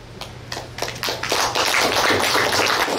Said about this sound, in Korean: 재밌는 동화를 들려주신 조혜리 씨님께 다시 한번 박수 부탁드립니다